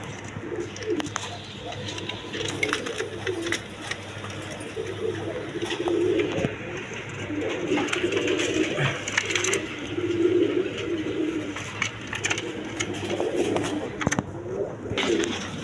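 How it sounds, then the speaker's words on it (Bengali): A pair of Mangal pigeons coo softly and repeatedly at close range among other pigeons in a market cage, with scattered light rustling and tapping around them. "দর্শকবৃন্দ এখানে এক পেয়ার কবুতর মানগাল কবুতর আছে"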